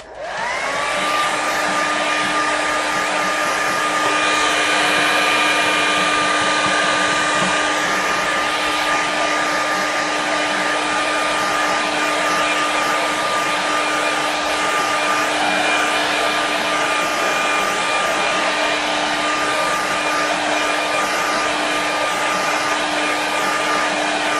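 A hair dryer blows continuously at close range to dry a watercolour painting of a snowy winter landscape, a loud steady whine and rush of air that holds unchanged for over twenty seconds with no talking.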